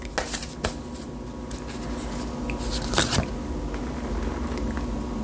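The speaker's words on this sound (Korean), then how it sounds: "지금 에너지 카드 제가 한 장을 먼저 뽑아보도록 하겠습니다." Close, quiet rustling and riffling of a tarot deck as a single card is drawn, with soft papery slides and flicks and no talking.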